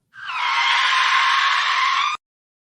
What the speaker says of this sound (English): Hit them brakes, Tate.